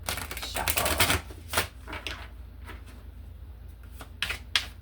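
Oracle or tarot-style cards are shuffled by hand, several quick riffling bursts with short pauses between, close and fairly loud, no talk over them.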